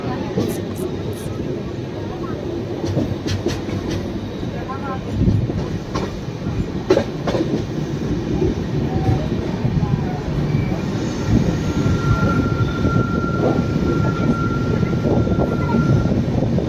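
A crowded passenger train at Karjat station, heard from aboard: a steady low rumble with rattles and clanks of the carriages, a faint tone, and people talking in the background.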